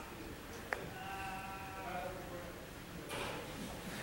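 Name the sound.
sheep bleating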